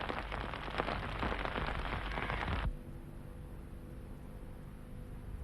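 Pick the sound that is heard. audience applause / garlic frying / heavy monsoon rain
heavy monsoon rain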